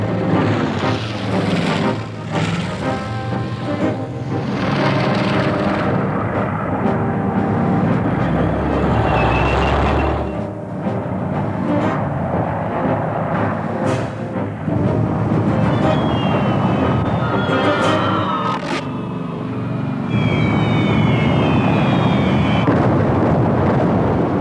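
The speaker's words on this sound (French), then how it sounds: "Il envoya d'abord des tanks, des avions, des bombes incendiaires." A dense war soundscape of aircraft and tank engines drones and roars with booming explosions from incendiary bombs, building into a loud, continuous chaotic din.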